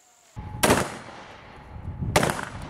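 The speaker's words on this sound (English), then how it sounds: "So now the guys are going to start getting into some actual live fire scenario training." Two sharp, loud gunshot bursts during live fire scenario training ring out about a second and a half apart, each trailing off into a brief echo over quiet outdoor background.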